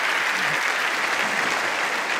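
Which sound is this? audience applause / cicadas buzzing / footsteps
audience applause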